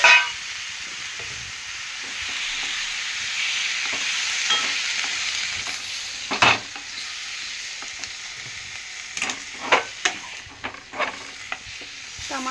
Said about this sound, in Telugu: టమాటాలు వేసి అయితే మంచిగా కలిపిస్తున్నాం.